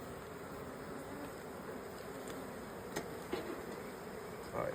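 Agitated honeybees buzz around an opened hive box with a new top box of frames, a dense continuous drone with occasional individual bees zipping close by, fairly faint overall.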